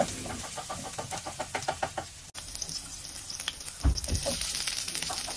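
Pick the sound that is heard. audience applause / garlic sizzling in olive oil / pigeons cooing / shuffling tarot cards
garlic sizzling in olive oil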